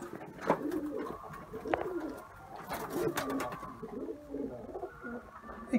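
Ankara tumbler pigeons coo steadily inside a coop, several birds calling in overlapping low, throaty phrases at close range with a few louder bursts and no speech.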